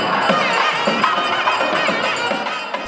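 A huge crowd of over 10,000 people at a firewalking festival in Udappu, Sri Lanka, makes a steady, loud roar of mingled voices and shouts, sustained without pause.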